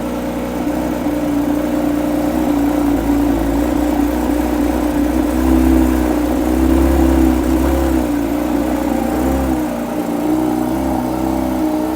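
A Porsche 992 GT3 RS in Shark Blue revs its engine with a loud, continuous, sustained mechanical note that rises and swells around the middle of the stretch, close by and with no talking over it.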